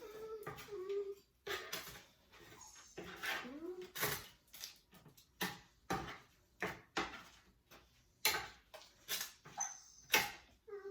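A puppy whimpers in a kitchen while bacon is cooked, giving short, high, repeated whines and little yelps in uneven bursts, fairly faint, alongside scattered clicks and creaks.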